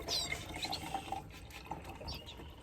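Colour feed liquid poured into a 100 ml bird drinker for finches and canaries, a close, steady filling trickle with small splashy bubbling, alone without talk.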